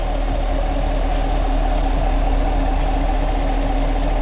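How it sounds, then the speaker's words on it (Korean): The 6.2-litre V8 engine of a Chevrolet Camaro SS idles steadily with a low, even rumble and constant hum, heard up close with no talking. "엔진 소리 일정하네요"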